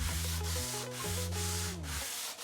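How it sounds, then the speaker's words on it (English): Close, steady rasping strokes of fine-grit sandpaper rubbing hardwood by hand, repeating in a regular rhythm beneath a soft musical backing. "Sanding was done by hand too"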